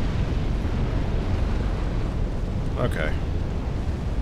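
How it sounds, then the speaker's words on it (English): Fire roars across the floor in Dark Souls 3: a loud, constant rushing crackle fills the whole stretch, with a short tonal flicker near the three-second mark and a brief spoken word over it. "So, the floor's on fire."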